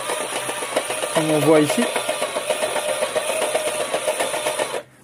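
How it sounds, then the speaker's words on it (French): A small electric motor drives an electric scooter wheel through a planetary reduction gear, giving a close, steady whirring drone that cuts off abruptly at the end, with a short spoken remark early on. "j'ai ici un moteur électrique qui fait tourner une roue de trottinette électrique"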